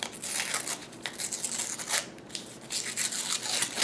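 Paper wrapper being torn and peeled off a roll of half dollar coins, with continuous close crinkling and ripping bursts and a brief lull midway.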